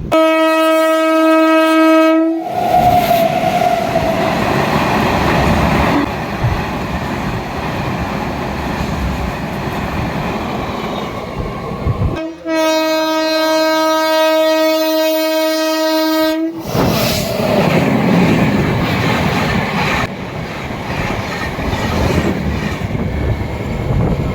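Train horn blasts loudly twice, each followed by heavy rumbling and clattering of wagons rolling along the rails as the train pulls away toward New Jalpaiguri, close and continuous.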